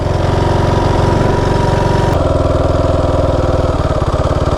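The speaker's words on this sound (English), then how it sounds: "Might have the idle up a little too high too." A Kawasaki KFX 450R ATV engine idles steadily up close, its loud, even pulsing throb running throughout with a slight shift in tone partway through.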